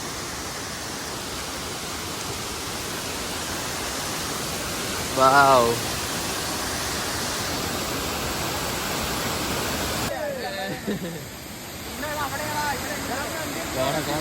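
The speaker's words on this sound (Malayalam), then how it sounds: "ഇവിടെയാണ് നല്ല വെള്ളച്ചാട്ടമാണ്" A waterfall at Nelliyampathy roars as a constant, broad rushing wash of water that fills the whole scene; a brief voice cuts in partway through, and a shift in the roar later suggests a change in position.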